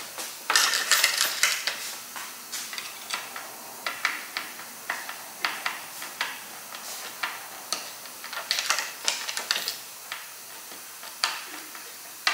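Ratcheting wrench snugging down a bow mount bolt on a Jackson Mayfly kayak, a steady series of light, close clicks repeating in short bursts with no talking.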